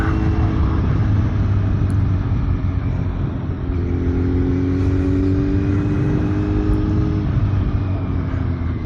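Motorcycle ridden along a sketchy December winter road, a loud steady engine drone with rumbling wind noise, the pitch rising slightly partway through as the bike accelerates, no talk.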